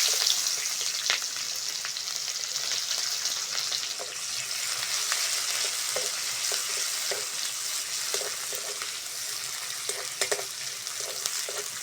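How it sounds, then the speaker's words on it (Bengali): Chopped onions frying in oil left from frying fish, with a constant loud sizzle close by and frequent light scrapes and taps of a spoon stirring them, with no voices. "মাছের তেলের মধ্যে কুচনো পেঁয়াজগুলো দিয়ে দেবো।"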